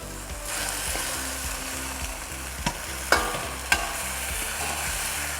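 Catfish is stir fried in a pan, with a steady close sizzle, soft scraping of the spatula and two or three sharp metallic knocks against the pan, no voices.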